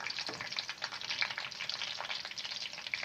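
Onions fry to light brown in a pan for a mongary and potato salan, giving a steady, crackling sizzle with bright spattering pops and no voices.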